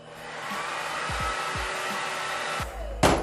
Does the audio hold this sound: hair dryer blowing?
yes